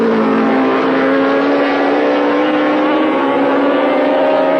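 Race cars running closely together on a track in the 1983 Pan Am Countrywide Series give a loud, continuous engine roar that holds a steady pitch with no break.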